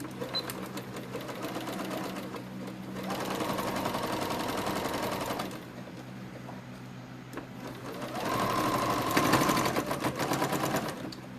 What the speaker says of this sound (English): So I actually am going to just sew these up.